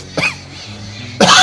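Two close, loud coughs from a man who is ill with a cold, about a second apart, each sharp and short with a quiet pause between.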